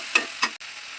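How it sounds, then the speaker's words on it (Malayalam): Squid stirred into a ground coconut spice paste for a Kerala thoran, two brief wet stirring swishes close by, then a short pause. "നമുക്ക് കണവ ഈ അരപ്പുമായിട്ടൊന്ന് മിക്സ് ചെയ്ത് കൊടുക്കാം."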